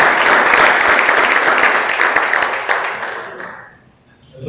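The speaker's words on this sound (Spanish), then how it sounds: "denle ese aplauso al Señor" A church congregation gives a loud round of applause during a sermon, a thick wash of clapping that holds steady, then thins and dies away to near silence over the last second.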